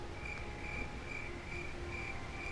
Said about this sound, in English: Maybe crickets?